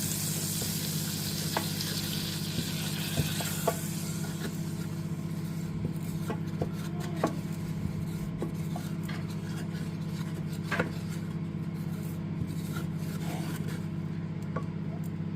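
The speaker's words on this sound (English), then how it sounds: "get this flour in. And we're going to give this a good mix up" Plain flour being stirred into a hot pan for a beef Sunday roast, with a steady sizzle and frying hiss running throughout and small scraping and clinking taps from the utensil against the pan, close and continuous with no talk.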